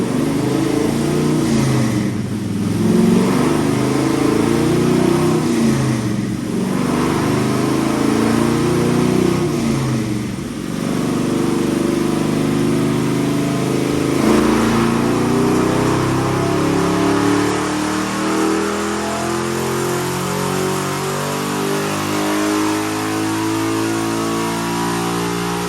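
A 1955 Chevy Fleetside pickup with a 327 V8 rumbles steadily and close, swelling in a few rev surges early on before settling into a continuous, slowly rising drone.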